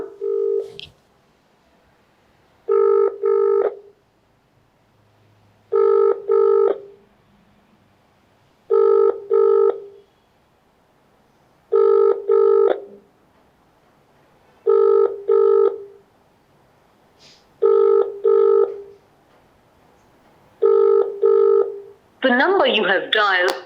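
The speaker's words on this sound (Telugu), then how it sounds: "పెద్దపల్లి అడిషనల్ కలెక్టర్ గారికి మనం కాల్ చేస్తున్నాం" A telephone call being placed: a short dialing tone at the start, then a steady pattern of paired ringback tones repeating about every three seconds, loud and clear with no talk over them.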